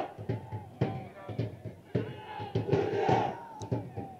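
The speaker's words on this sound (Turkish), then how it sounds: "Takdire şayan bir destek. Takdire şayan bir tezahürat." Football supporters in the stands at a Zap Spor versus Bingöl Spor match roar and chant in rhythmic surges, a crowd mass heard at moderate distance with no clear voice in front.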